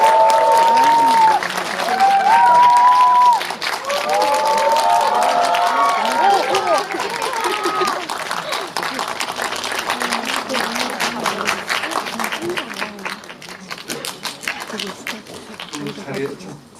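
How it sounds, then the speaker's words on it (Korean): An audience in a cinema applauds as guests are welcomed to a live talk event for a film screening, with sustained clapping and some cheering, while a voice speaks over a microphone and a few whistle-like tones ring early on. "박수로 맞이해주십시오."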